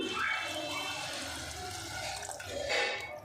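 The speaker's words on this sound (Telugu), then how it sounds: "ఇప్పుడైతే వాటర్ వేస్తున్నా కొన్ని" Water poured into a pan of fried broad bean masala curry for a gravy, a steady close splashing and trickling that lasts a few seconds.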